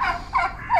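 A turkey gobbles three times in quick warbling bursts, close and fairly clear over faint background noise.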